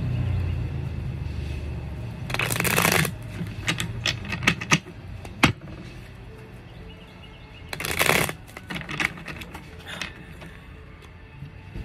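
Green tarot cards being shuffled and pulled, with two bursts of riffling at the start and later, and scattered soft card slaps and handling noises between them, close and clear.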